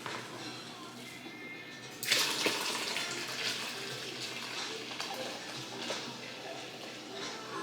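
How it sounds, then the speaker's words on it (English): Homemade ginger sorrel drink poured into a bucket, a steady splashing liquid pour that starts abruptly and continues, close and moderately loud. "we're gonna pour it in my bucket"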